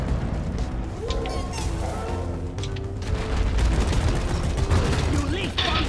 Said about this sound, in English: are you shooting at stuff right now?